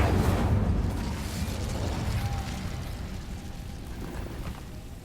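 A fire spell in a fantasy game gives off a steady, dense whooshing roar, loudest at the start and easing slightly over a few seconds, with crackling noise throughout and no voices.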